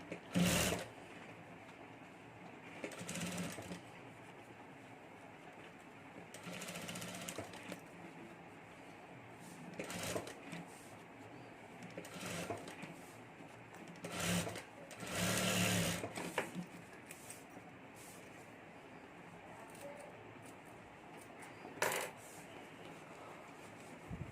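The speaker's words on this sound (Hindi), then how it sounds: "अब हमें फिर से सिलाई शुरू कर देनी है" Sewing machine stitching the seams of a woman's clutch purse, running in several short bursts with pauses between them at moderate loudness.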